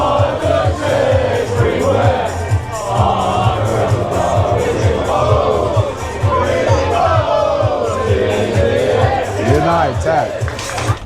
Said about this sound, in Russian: Народ пьет пиво, поет.